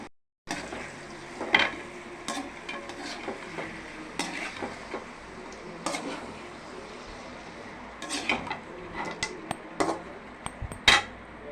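Chicken kuzhambu ingredients sautéing in a pan: a spoon scrapes and clinks against the metal at irregular moments over a quiet background of faint frying.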